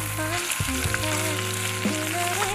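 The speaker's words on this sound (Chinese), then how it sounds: "锅里放入所有的香料和冰糖，炒出焦糖色，再下入排骨，炒出糖色。" Spareribs stir-fried in a pan with spices and rock sugar, the sugar cooked to caramel: loud continuous sizzling and frying with scraping stir sounds.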